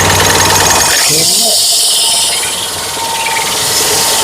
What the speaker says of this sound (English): So just going to use a belt sander here.